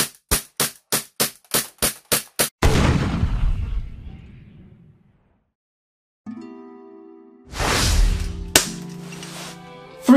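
An EMG Hudson H9 airsoft pistol fires a rapid string of eight loud, sharp cracks, followed by handling rattles and later clatter and a tonal hum, all close to the microphone.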